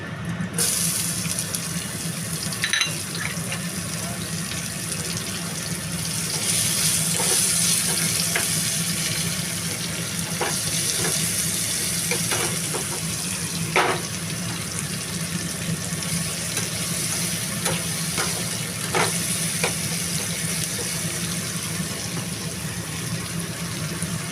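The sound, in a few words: onion frying in oil with cumin and bay leaf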